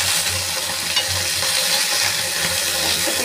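Paneer pieces frying in a pan for paturi, a steady close sizzle with soft stirring and scraping throughout, no voices.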